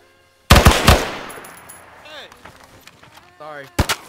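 Bursts of video game gunfire in a jungle setting: a loud close volley of shots opens, then fades into scattered noise and voices, with another sharp burst near the end.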